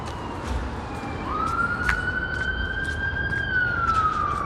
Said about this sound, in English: I just follow that ambulance siren.